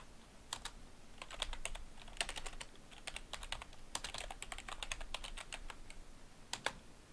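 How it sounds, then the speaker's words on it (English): Keys clatter on a computer keyboard in quick irregular bursts and single taps, fairly faint against a low background hiss, with no talking. "You're really good at spelling with a keyboard"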